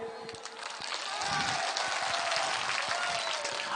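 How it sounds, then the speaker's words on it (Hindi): Applause from a crowd at an AIMIM political rally in Kishanganj, Bihar, builds into a steady wash of clapping that stays loud and continuous, with some indistinct crowd noise mixed in. "एक बार अपने आप के लिए ताली बजाइए"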